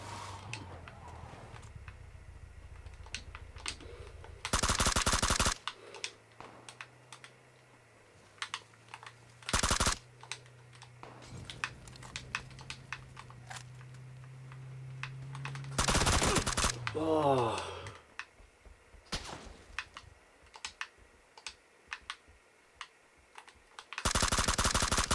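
Gunfire in the video game PUBG: several loud bursts of automatic fire crack out between quieter stretches, with game engine hum, faint clicks and occasional speech in the background.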